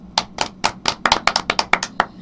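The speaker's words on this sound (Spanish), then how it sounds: "Fuerte aplauso para ella" About a dozen separate hand claps ring out in an uneven rhythm at a Miss San Pedro de Macorís RD Universo appearance, each sharp and close, with no voices over them.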